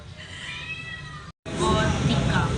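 A cat meows at a restaurant, a couple of drawn-out cries heard over busy background clatter and chatter, fairly close and loud.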